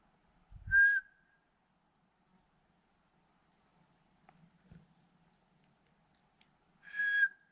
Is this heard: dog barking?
no